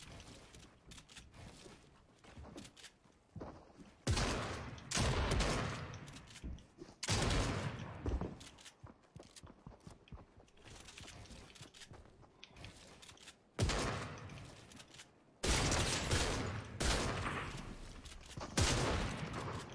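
Bursts of rapid video game gunfire, sharp and loud, come in several separate volleys with quieter gaps between them, and no voices over them.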